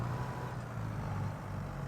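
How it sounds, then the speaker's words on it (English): A video game tractor engine pulling a log trailer, with a steady, heavy low rumble and a constant droning hum that carries on without a break and without talk. "This tractor's got some grunt."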